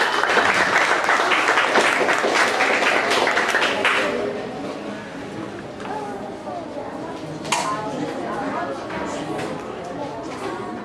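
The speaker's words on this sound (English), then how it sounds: "Let's give them a round of applause once again." Audience applause at a reef week trivia event in San Pedro Town, Belize, with dense clapping for about four seconds, then scattered claps and crowd chatter as it fades.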